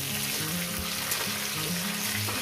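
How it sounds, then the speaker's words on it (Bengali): Flat beans (sim) frying in a pan with small kachki fish, a steady, dense sizzle that holds at an even level throughout, close and continuous, with no talk. "সিমটাকে দিয়ে আরো আমি 5 মিনিট ভাজবো"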